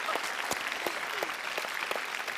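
Friends in a studio audience clap on a Tamil TV quiz show for children, a steady burst of close, dense applause lasting throughout.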